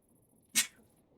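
A single sharp sneeze bursts out midway through an otherwise quiet moment, loud and brief.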